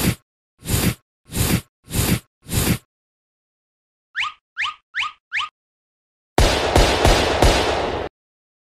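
Cartoon New Year firecrackers go off in a cartoon scene: five sharp bursts in an even rhythm, then four quick whistling pops, then a dense crackling volley, all loud and close against silence.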